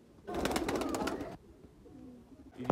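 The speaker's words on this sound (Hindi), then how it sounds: "ये जो आ गया ये सियालकोटी ये वाला कबूतर" A Sialkoti breeder pigeon gives a soft burst of cooing, fairly close and quiet, followed by low murmuring and a brief bump at the end.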